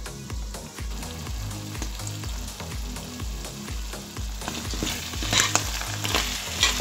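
Cheese and filling frying together in a pan while being stirred; a continuous close sizzle with scraping stir sounds, growing a bit brighter and louder toward the end, with no talking.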